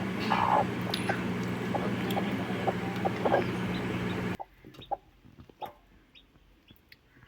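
Faint, high chirping peeps repeat irregularly over a low hum, then continue sparsely in a quieter stretch, like tiny chicks calling from inside eggs.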